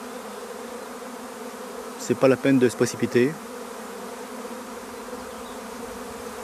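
A loose honeybee swarm that has not yet clustered fills the air with a steady, even buzzing hum, while someone speaks briefly partway through.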